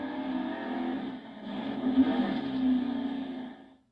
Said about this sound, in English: Now he's going to spin the car around and head toward the pits in the wrong direction